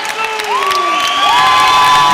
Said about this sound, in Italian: Tifo da stadio per lui, molto bravo.